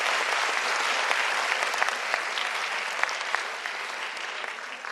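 Steady applause from a seated audience at a panel discussion, many hands clapping in a dense, sustained wash at moderate loudness, with a few sharper individual claps poking through.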